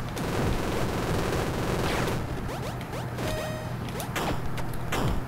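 Rapid machine gun fire in the arcade game Super Crate Box, a steady loud stream of shots mixed with game music and whooshing effects, alone without talk.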